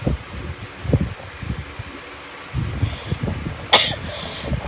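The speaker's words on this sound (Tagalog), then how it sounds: "Sobrang lumala na yung ubo ko." Repeated coughing from a person with a worsening week-long cough, several short bursts spread across the clip, close and fairly loud, with a sharper throat-clearing or sneeze-like burst near the end and no speech.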